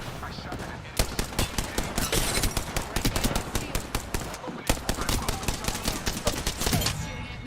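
Rapid video game gunfire, dense bursts of sharp shots, some in fast automatic strings, loud and continuous throughout with brief gaps, and a voice occasionally under the shooting.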